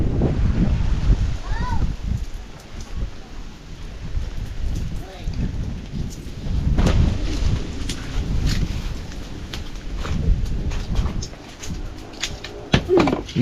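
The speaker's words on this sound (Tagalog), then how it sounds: "Medyo malakas yung hangin" Strong wind blows outdoors, buffeting the microphone with continuous roaring gusts while people talk intermittently.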